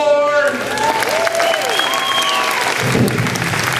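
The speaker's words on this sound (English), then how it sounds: "a big round of applause for grade 4" Applause for the grade 4 class at a school Christmas concert, dense crowd clapping mixed with whoops and cheering voices, loud and continuous.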